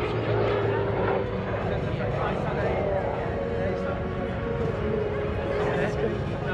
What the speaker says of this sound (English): Leet Leet in the short Tucano from Louisville, Kentucky.